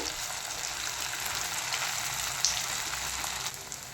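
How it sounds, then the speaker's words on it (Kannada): Avalakki chakli dough frying in hot oil, a steady dense crackling sizzle holding level throughout with a small pop midway, no voices. "ಈಗ ಎಣ್ಣೆ ಎಲ್ಲ ಕರೆಕ್ಟಾಗಿ ಕಾದಿದೆ. ಈಗ ಸೈಡಲ್ಲಿ ಬಿಡಿ. ನಿಧಾನಕ್ಕೆ ಬಿಡಿ."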